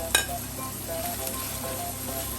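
Green chilies frying in hot oil in a pan for a Kerala fish soup, a steady close sizzle with faint crackles and a brief clink of a utensil at the start, no talk.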